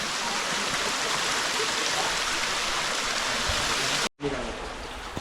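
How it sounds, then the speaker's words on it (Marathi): Stream water rushing through rural countryside, a steady, loud, close broadband flow that cuts out abruptly near the end. "मस्त की पाणी येतो बघा इकडनं"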